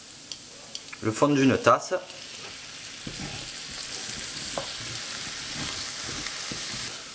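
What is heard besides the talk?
stirring spices in a frying pan for tikka masala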